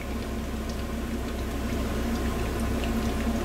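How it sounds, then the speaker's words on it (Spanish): Plantain slices frying in hot oil, a steady soft sizzle and bubbling that runs evenly throughout, close and moderately quiet, with no talking. "Y así los vamos friendo poco a poco."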